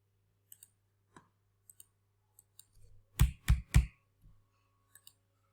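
A computer mouse clicks a few times in a quiet room: sparse, faint single clicks, then a quick burst of three louder, closer clicks, followed by a couple more light taps.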